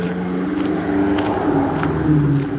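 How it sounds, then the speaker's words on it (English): A loud car passes along a residential street whose sidewalks are strewn with winter salt and gravel, its engine droning steadily and swelling slightly toward the end of a short continuous pass. "people around here love loud cars"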